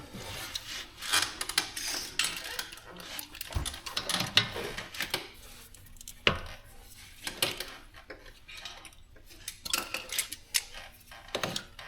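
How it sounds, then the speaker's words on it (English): A brake caliper is worked off an Infiniti QX50 during a brake job, giving scattered metallic scrapes, rubs and knocks in irregular bursts, fairly close and with no talking. "we're just going to take this caliper off just like the other side here"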